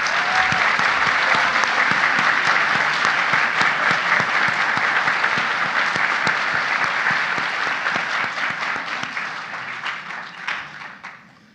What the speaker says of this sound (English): How about a round of applause for our graduates?